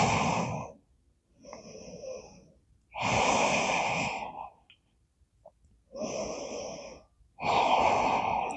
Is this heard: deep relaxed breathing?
yes